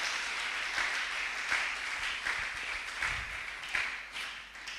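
A church congregation applauds and cheers during a French-language sermon on covenant with God, a steady wash of clapping with scattered louder bursts that holds for about five seconds without speech.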